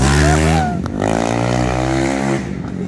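An ML 320cc motorcycle revs hard on a street, a loud, strained engine howl that climbs and holds, with excited voices shouting over it.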